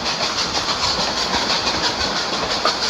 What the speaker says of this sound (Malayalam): അളിയാ ട്രെയിൻ പോയ അളിയാ